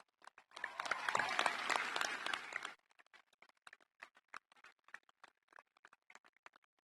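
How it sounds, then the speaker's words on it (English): A commencement crowd of graduates gives a burst of applause lasting about two seconds, followed by scattered, fading individual claps in a quiet space. "well-deserved round of applause"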